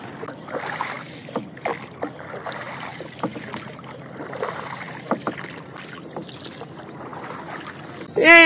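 A rowboat moves through flooded city streets in Dhaka, with oars splashing and water knocking against the hull in a steady rhythm. A faint background murmur carries throughout, and a sharp, brief sound cuts in at the very end.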